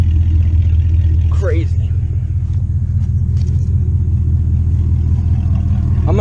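A vehicle engine nicknamed Buster idles with a loud, steady low rumble throughout, while a person speaks briefly over it.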